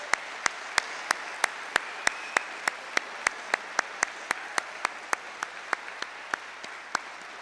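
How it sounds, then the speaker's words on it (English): Audience at a North Central College Hall of Fame induction ceremony claps in a steady, evenly spaced rhythm, a clear run of about two dozen claps heard close and fairly soft in a quiet hall. "Let's all give everybody one last round of applause."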